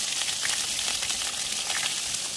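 Cumin, ginger and chilli pastes fry in mustard oil with bay leaf, dried red chillies and five-spice in a kadai, giving a soft, continuous close sizzle with faint crackles and no voices.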